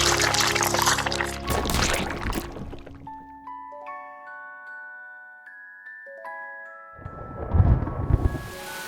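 Heavy rain pours amid rolling thunder, a dense loud rumble that drops away to a passage of clear synthetic tones before the downpour and thunder surge back.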